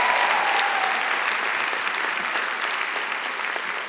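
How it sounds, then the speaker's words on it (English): Graduation commencement crowd applauding a professor and associate dean, loud sustained clapping from a large audience, continuous and even, tapering slightly toward the end. "As you may be able to tell from the applause"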